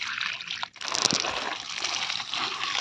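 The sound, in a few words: water being poured onto plants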